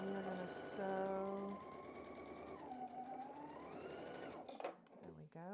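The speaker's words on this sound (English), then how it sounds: "And we're going to sew..." A sewing machine hums steadily while stitching a quilt block, near and even, with someone talking over it and the motor winding down before brief clicks at the end.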